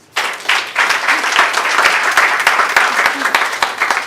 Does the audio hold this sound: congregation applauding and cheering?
yes